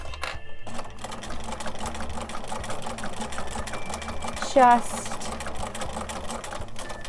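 A sewing machine stitches binding onto a quilted candy corn hot pad at a slow, steady pace, its rhythmic needle chatter running continuously up close, with a short squeak partway through.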